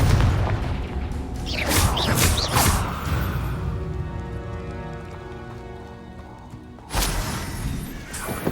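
A Confringo fire spell explosion in Hogwarts Legacy bursts with a sharp crashing boom, followed by a lingering ringing tone and another abrupt impact near the end.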